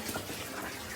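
Water pours steadily out of a concrete pond filter that holds nets, rocks and charcoal, a close, continuous rushing splash with no talk.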